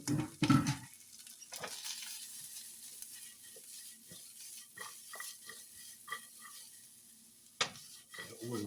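Vegetables fry and get stirred in oil in a pan, giving a faint steady sizzle with occasional scraping and clinking stirs, no talk.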